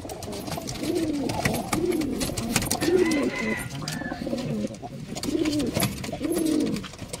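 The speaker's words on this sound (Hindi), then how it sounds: "ये डबल वाला कबूतर है।" Several pigeons cooing in repeated low, rolling phrases, close by, over a busy background of rustling and faint chatter.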